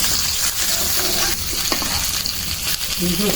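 Large pieces of fresh chital fish fry lightly in hot oil, a steady close sizzle with occasional spatter and stirring clinks, no talking.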